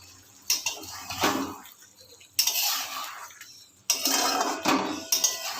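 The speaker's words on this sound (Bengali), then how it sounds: "ঢাকাটা খুলে এবার আমি একটু সরিয়ে নিচ্ছি।" A metal lid lifted off a pot of simmering Bengali bitter gourd curry with potato and pumpkin, giving a few scraping clinks and metallic rattles in separate bursts, close and moderately loud, with no talk.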